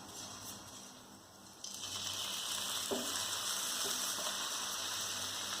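Milk is poured into a hot pan for coconut laddu, and the cooking hiss swells partway through into a steady, close sizzle that carries on with no one speaking.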